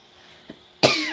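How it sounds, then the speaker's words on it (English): A single harsh cough bursts out near the end after a brief quiet and a small throat sound, close and fairly loud. "I still have a little bit of a cough"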